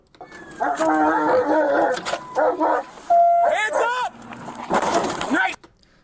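A police dog barks and whimpers in short yelps amid a noisy outdoor scene, with people talking over it.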